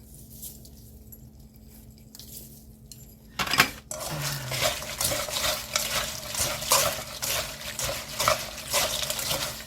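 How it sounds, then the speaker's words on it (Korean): Fried pepper chips being stirred in a pan, quiet at first, then a sharp clatter followed by continuous scraping and rustling stirring, close by. "이렇게 얼른 저어주시고 이때 따뜻한 열기가 있을 때 설탕도 좀 넣어주세요"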